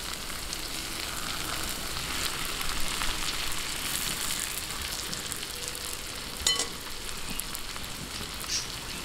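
Garlic and onion sizzling in a pan for pork belly, a continuous bright crackling fry with occasional pops, close and steady, no voices.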